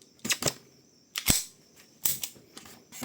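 KJW CZ Shadow 2 airsoft BB pistol in orange firing several sharp, loud snapping shots at irregular intervals, close up with no talking.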